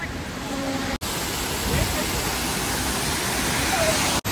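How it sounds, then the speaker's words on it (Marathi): A large waterfall at Lonavala roars as a steady, dense rush of falling water, loud and unbroken apart from two brief dropouts. "लयच मोठा धबधबा आहे."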